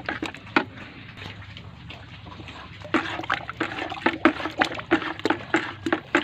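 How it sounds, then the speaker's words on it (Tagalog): Deworming powder is stirred into water for pigs, starting as a soft swirl and building into rhythmic, close sloshing strokes, with no talking. "Haluin natin para na ma-disperse yung mga pampurga natin sa ating feeds at sa tubig mga kahags."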